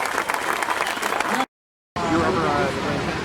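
Audience applause for boxer Larry Holmes at his statue dedication, dense clapping with crowd noise, cut by a brief half-second dropout before resuming just as loud with voices mixed in.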